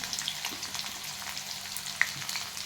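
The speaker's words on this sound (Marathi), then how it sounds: "आता थोडासा कांदा टाकून घेतो चिरलेला बारीक" Finely chopped onion sautéing in oil in a pan with whole spices, a soft steady sizzle with faint crackles and one brief sharp tick, fairly quiet and with no talking.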